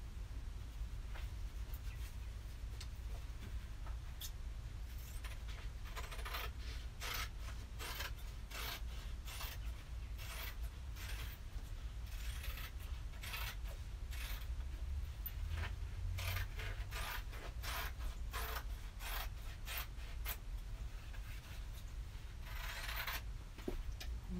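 Scissors snip through freezer paper appliqué pattern pieces in a quick, irregular run of soft crisp cuts, close and faint, laid over a constant low hum with no talking.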